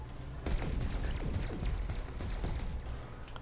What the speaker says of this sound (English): I think that's like a plasma gun, right? Yeah, cannon.